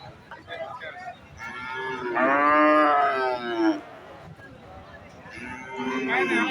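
A cow at Dhap cattle market moos loudly and at length, a deep drawn-out bellow in the middle of the clip, with a second moo starting near the end over steady market chatter and crowd noise.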